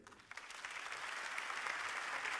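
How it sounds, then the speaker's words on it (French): An audience applauds the prize-winning entrepreneurs at an awards round table, a soft, fairly distant wash of many clapping hands that builds slightly over two seconds. "Je vous demande de les applaudir."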